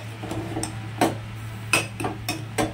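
A metal lid is lifted off a pan of prawn chorchori cooking over a low gas flame, giving several sharp, close clanks and clinks over a steady low hum.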